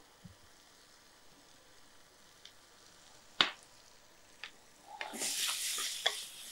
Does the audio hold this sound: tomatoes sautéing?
yes